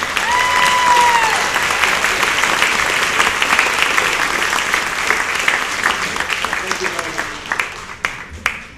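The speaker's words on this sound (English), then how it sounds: "please give a hearty round of applause for these folks" An audience at a Morgan Hill community celebration bursts into sustained, dense applause that carries evenly for several seconds before thinning into scattered claps at the end.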